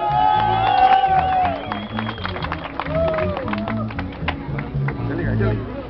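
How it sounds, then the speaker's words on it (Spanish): Crowd at a jaripeo cheering and clapping while music plays and a voice talks over the noise, with the band's tones and the crowd noise mixed together at fairly close range. "Y el aplauso pues."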